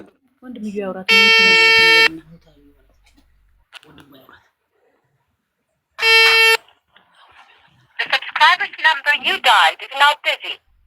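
A phone rings in two long electronic bursts, separated by a pause, with people talking quietly before and between them and more chatter afterward.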